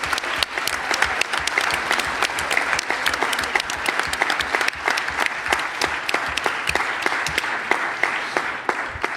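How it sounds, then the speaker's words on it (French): Steady applause from a conference audience in a hall, many hands clapping densely and continuously throughout, fairly close and full, with no talk over it. "on peut les applaudir pour leur contribution"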